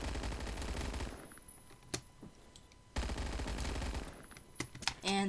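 Rapid bursts of fire from a big pistol-like gun in Phantom Forces, two long dense volleys of quick shots separated by a short pause, close and loud, ending with a few scattered reload clicks.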